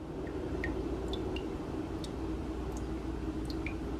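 Thick bone broth rich with collagen drips steadily into a container, a handful of soft, distinct drops landing at irregular intervals over a continuous low background hum.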